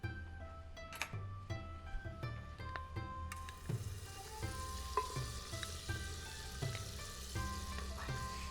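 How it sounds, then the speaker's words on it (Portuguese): Butter sizzles in a hot cooking pan on the stove with a steady crackling hiss, broken by occasional metallic clinks of a utensil against the pan. "Com a panela no fogo, o primeiro passo é colocar a manteiga."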